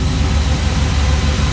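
A Chevrolet C10 truck with a swapped LS engine idles steadily around 820 RPM, a loud, close, continuous low rumble with no talking.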